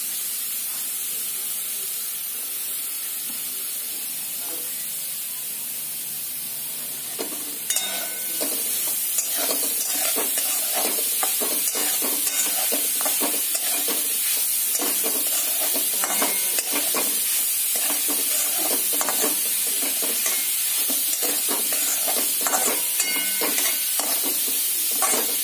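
Grated carrots being sautéed in a kadai, with a steady loud sizzling hiss and continuous close scraping and stirring strokes that grow busier after the first several seconds.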